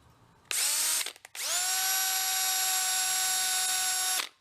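A power drill boring into a busted bolt or stud, a loud high whine that starts, stops briefly, then runs steadily for about three seconds before winding down, close up with no talk.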